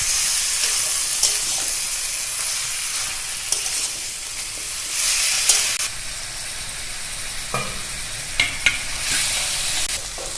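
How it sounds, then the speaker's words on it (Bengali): Mutton pieces frying with three garlic cloves, potatoes and papaya, stirred in a pan for kosha: a steady sizzle underneath with intermittent stirring scrapes, close and fairly loud, no talking. "রসুন 3টে, আলু, পেঁপে দিয়ে খানিকটা সময় কষিয়ে নিব।"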